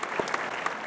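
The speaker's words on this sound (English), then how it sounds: "A nice warm round of applause there" Audience applause at a contest performance, a brief burst of steady crowd clapping with a few sharper claps in it.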